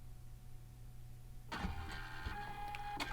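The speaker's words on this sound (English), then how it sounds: "and it's printing" A Liene PixCut S1 printer prints a phone skin in a quiet room. Partway through, steady mechanical whirring and motor drive noise start up, broken by a few sharp clicks.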